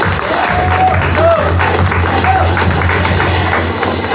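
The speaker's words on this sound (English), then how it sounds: "Let's hear some applause" A crowd applauds a runner-up at a fish expo prize distribution for a betta competition: a steady, loud wash of clapping throughout, with a few faint whistles and murmurs.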